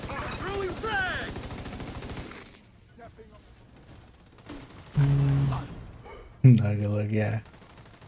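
Heavy automatic gunfire rattles loudly in a video game for about two seconds, then stops as players talk over quieter game sounds.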